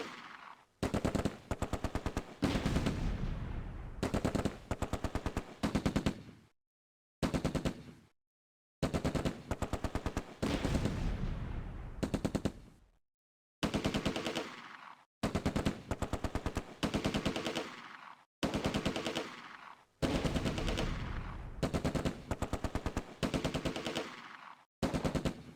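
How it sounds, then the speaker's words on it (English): Machine gun and cannon fire in the World War II strategy game Close Combat: A Bridge Too Far, set during Operation Market Garden. Loud, close rattling bursts repeat in rapid volleys, separated by short silent gaps. "Infantry advancing under cover of machine gun and cannon fire,"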